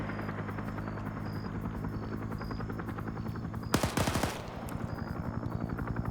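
In a Vietnam-era multiplayer war game, a helicopter's steady rotor thrum runs throughout while a short, loud burst of automatic gunfire cracks through near the middle.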